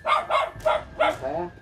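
A dog barks in a quick string of about five sharp, close barks, the last one drawn out into a whining yelp.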